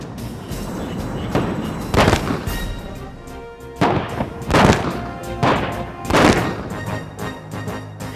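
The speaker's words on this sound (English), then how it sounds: "The explosions were equivalent to the blast from a 500-pound bomb." Test explosions simulating impacts of conventional air-launched cruise missiles, each equivalent to a 500-pound bomb blast, go off as about four heavy booming bursts spread over several seconds, with rumbling rolling between them and no talking.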